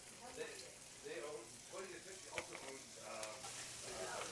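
Onion frying in butter for orange chicken gives a soft, low sizzle and gentle stirring, faint and partly covered by someone talking throughout.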